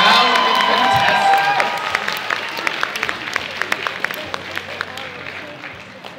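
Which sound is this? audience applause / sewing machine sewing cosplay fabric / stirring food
audience applause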